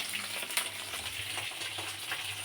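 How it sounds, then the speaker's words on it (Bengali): Pointed gourd sizzles and crackles in hot oil, a soft steady frying close by with small pops and faint stirring. "এখানে পটলটা ভাজা চলছে"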